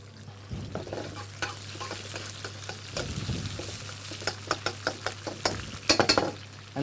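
Parma ham crisping in a frying pan, a moderate sizzle with a low steady hum beneath, punctuated by a run of quick scraping and clicking stirs that grow sharper toward the end.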